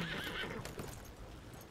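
A horse in the video game Red Dead Online gives a short whinny up front, then hooves clop over a steady outdoor game ambience, with no talk.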